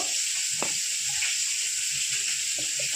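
Tilapia pieces fry in hot oil with a steady, even sizzle and hiss, close and continuous, broken by a few faint clinks and stirring sounds, with no voices.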